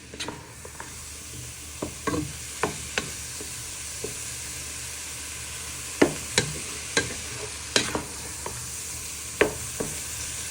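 Spring onions, garlic and ginger frying in a pan with pork mince for fried rice, a steady close sizzle punctuated by sharp scrapes and clinks of a utensil stirring around the pan, with no talking.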